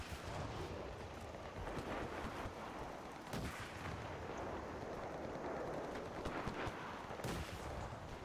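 Artillery fire in the Enlisted war game, a continuous roar of battlefield gunfire and distant shelling with two sharper blasts standing out, loud and dense throughout with no talking.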